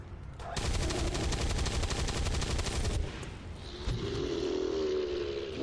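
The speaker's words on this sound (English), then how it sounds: "I'm gonna shoot it in the face." Gunfire in the video game XCOM 2: a loud, dense, continuous burst of rapid shots lasting about two and a half seconds, followed by a lower rumbling tail.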